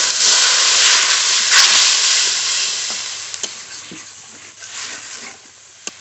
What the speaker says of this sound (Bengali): লবণ হলুদ গুঁড়ো জল জল দিয়ে ভালো করে কষিয়ে নেবো মশলা